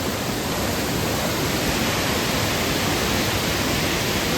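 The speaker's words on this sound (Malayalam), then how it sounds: "ചിരണ്ടിയാർ വെള്ളച്ചാട്ടാണ് കേട്ടോ" Chirandiyar waterfall running strong after two days of heavy rain, a steady, dense roar of falling water filling the whole clip without a break.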